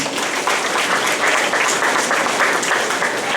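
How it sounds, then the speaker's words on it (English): An audience at a school graduation ceremony claps continuously, a steady wash of many hands applauding for a few seconds without pause. "Another round of applause for our principal"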